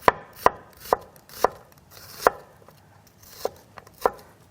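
An onion being sliced into thin strips with a knife on a cutting board, about nine crisp, close chops at a brisk, slightly uneven pace, with no voices.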